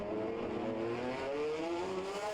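A 1988 Formula One car at the San Marino Grand Prix pulls into the pits, its engine a steady, loud, rising drone with gear-shift steps in tone, close by and with no talk over it.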